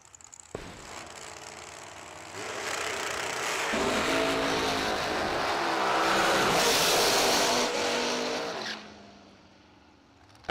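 Drag racing cars at a summer event launching and running down the strip, engine roar building from a rumble into a loud, sustained high-pitched scream over several seconds before fading away into the distance.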